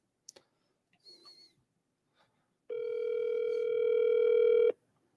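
Telephone dial tone on a call placed during a livestream: a few faint clicks and a brief chirp, then a loud, steady single tone for about two seconds before it cuts off.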